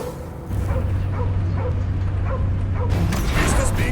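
Cosmo the dog barking and whimpering in the Guardians of the Galaxy video game, repeated yips over a low game soundtrack drone, loud and close throughout.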